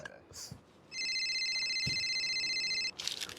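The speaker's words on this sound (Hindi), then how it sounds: "ओए एक मिनट फोन आ गया" A phone rings with a bright electronic tone held for about two seconds, with faint voices and background noise around it.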